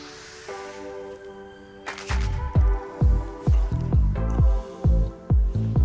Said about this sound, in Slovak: keď ho stlačím, takmer okamžite začne cez mriežky a otvory vytekať von